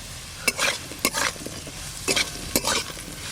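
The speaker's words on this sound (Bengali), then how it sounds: "মশলা দিয়ে ভালো করে নেড়ে নিয়েছি" Spices and frying taro potatoes are stirred in a pan, giving four sharp scraping strokes, each followed by a brief sizzle, close up with no talking.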